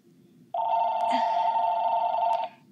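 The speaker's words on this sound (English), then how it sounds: "And the phone is ringing." A telephone rings loudly and close in an indoor room, a steady electronic trill holding for about two seconds after a faint murmur of background talk.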